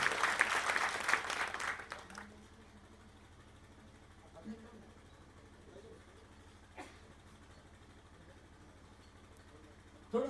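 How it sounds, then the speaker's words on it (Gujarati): Brief burst of crowd applause at a Gujarati devotional bhajan gathering, dense clapping for about two seconds that quickly fades into quiet room ambience. "ફરીવાર તાળીઓ થઈ જાય"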